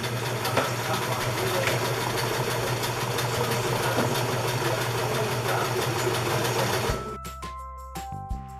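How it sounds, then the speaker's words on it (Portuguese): A sewing machine stitches a straight seam on fabric while a shorts garment is turned into a skirt, running as a steady, fast mechanical whir for about seven seconds before stopping, followed by faint clicks and handling noises. "Então eu vou passar uma costura reta aqui."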